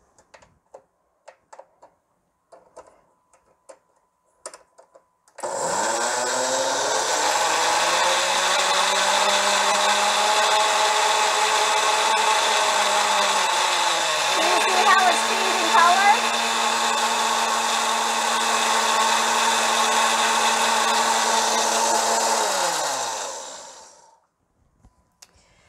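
A blender whirs steadily on low speed while mixing an herbal healing lotion, starting abruptly after a few faint taps and stopping near the end. Loud and continuous, with a brief dip partway through.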